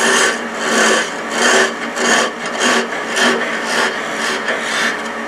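An 8mm carbide woodturning tool hollows out wood on a lathe, giving a loud, close, continuous scraping rasp that swells and eases in a steady rhythm of cutting passes.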